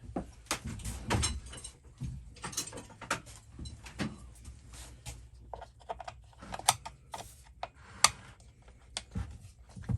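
Screws being backed out of the plastic cover on a Stihl MS271 Farm Boss chainsaw with a Torx driver, heard close as scattered small clicks, ratcheting ticks and light plastic knocks with short pauses between.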